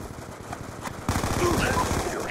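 Rapid automatic gunfire rattles in Call of Duty Black Ops 2 multiplayer, starting as fainter bursts and then jumping to a loud, sustained stream of shots about midway.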